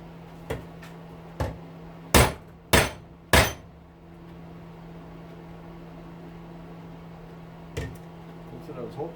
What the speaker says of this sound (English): So, the rivet remover.